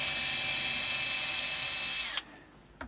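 Electric screwdriver backing out the bridge screws on a Squier Bullet hardtail Strat: a steady high whine runs for about two seconds and stops, followed by a faint second brief burst, close and moderately quiet.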